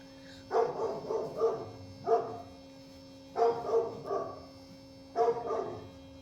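A dog barks in four quick bursts of several barks each, separated by short pauses, at moderate distance.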